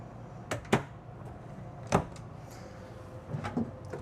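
Wardrobe doors in the bedroom of a 2026 Newmar Dutch Star 4369 motorhome being opened, several faint wooden clicks and thumps spaced unevenly in a quiet room.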